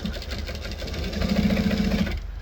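A sewing machine stitching a fabric bag, running in a fast steady whir of needle strokes that speeds up slightly midway and then stops abruptly near the end, close and clear.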